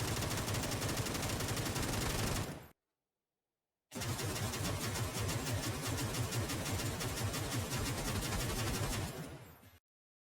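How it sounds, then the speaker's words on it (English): M16 Mutant rifle firing in burst mode at 800 RPM in a video game: dense, loud rapid gunfire that fills about two and a half seconds, breaks off, then resumes for roughly six more seconds. "I'm going to show the new updated 800 RPM Mutant in burst fire mode versus a fully automatic barrel"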